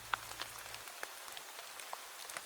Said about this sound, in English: Rain taps against the window, softer now.